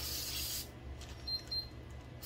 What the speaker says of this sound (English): I'll spray a lot of oil on it